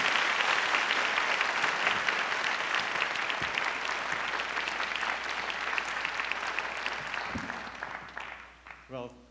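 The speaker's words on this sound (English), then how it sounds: "let's give a very, very warm round of applause for Michael Sandel" An audience at a humanities lecture welcomes speaker Michael Sandel with dense, sustained applause that fills the hall, then thins and fades out near the end.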